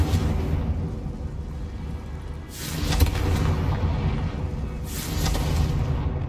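Spell blasts in Hogwarts Legacy, the Confringo fire curse: two loud whooshing bursts about two seconds apart over a steady rumbling game backdrop, with no voices.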